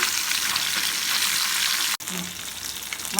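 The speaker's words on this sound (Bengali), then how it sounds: "লাল করে উল্টে পাল্টে ভেজে নেব" Salted, turmeric-coated pona fish fries in hot oil with a continuous loud, close sizzle; a sudden brief drop marks the pieces being flipped before the crackling hiss resumes.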